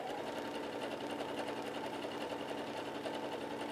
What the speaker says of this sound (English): the stitch is just going to go over the top of the cord